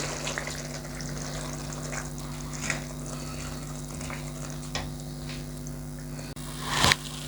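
About one and a half glasses of water are poured into a pot of cooking keema. A low steady hum runs until a short, loud gushing pour and splash near the end, with no talking.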